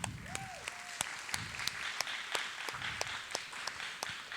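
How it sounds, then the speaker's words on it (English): Steady applause from an audience at a live glassblowing demonstration, a dense wash of clapping punctuated by crisp nearby claps, with a brief whistle-like tone early and low murmuring beneath. "Round of applause."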